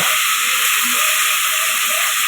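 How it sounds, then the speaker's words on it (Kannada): Mint leaves dropped into hot oil in a home kitchen while cooking a village-style egg and chicken sambar, giving a loud, steady, broadband sizzle and hiss that holds evenly throughout with no talk. "ಇವಾಗ ಎಣ್ಣೆ ಕಾದಿದೆ. ಇವಾಗ ನೋಡಿ ಪುದೀನ ಹಾಕ್ತೀನಿ."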